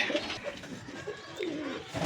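Sialkoti pigeons coo softly in short, low, rolling calls, repeated a few times at close range.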